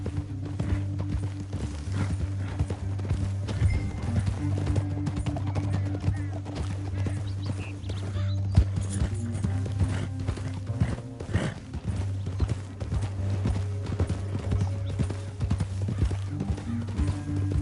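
Horses gallop in a video game, a constant rapid clip-clop of hooves with occasional whinnies over a low, steady musical backdrop, running throughout with a few faint voices.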